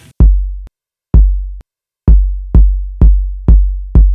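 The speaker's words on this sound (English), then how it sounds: "My kick sounds like this" Simple kick drum sample for an electro pop beat, struck alone in a loud, clean pattern of booming low thumps with short decays, first spaced wide and then in a quicker steady run.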